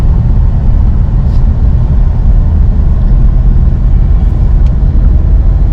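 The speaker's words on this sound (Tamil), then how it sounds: "ஆக்சிலேட்டர் கொடுத்து ஓட்டுங்க" A car drives with the accelerator pressed, giving a loud, steady engine and road rumble with no breaks.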